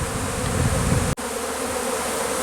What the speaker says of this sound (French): l'essaimage, c'est le moyen de reproduction naturelle des abeilles